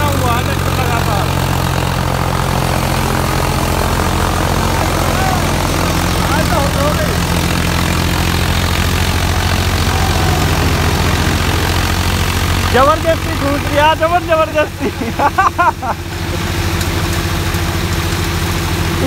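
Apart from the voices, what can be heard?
tractor engine running steadily at 1800 RPM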